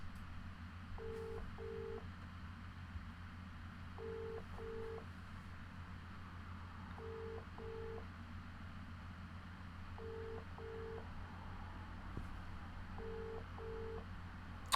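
A phone line rings out with repeated double tones every three seconds, steady and quiet over a low hum, with no one answering.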